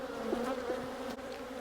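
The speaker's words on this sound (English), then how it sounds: "Strong bees though." A strong colony of honey bees at a farm hive, whose lid has been opened, hums as a steady, dense, droning buzz that fills the whole moment without letup.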